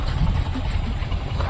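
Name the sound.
Mahindra tractor engine idling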